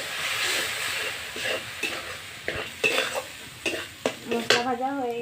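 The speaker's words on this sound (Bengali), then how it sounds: "মশলা ভাজা হয়ে গেছে" Turmeric, chilli and cumin paste frying in a pan, a soft steady sizzle with repeated sharp scrapes and clinks of a spoon stirring against the metal.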